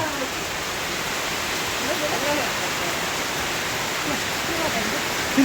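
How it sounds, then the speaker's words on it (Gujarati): Steady night rain falls continuously, a soft even hiss with no pauses, fairly faint and unbroken. "રાતનો વરસાદ ચાલુ છે"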